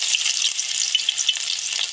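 Chopped garlic sizzling in hot oil with whole cumin seeds for a Bengali tarka dal, a steady close crackling hiss with small pops and a few light stirring clicks, no voices.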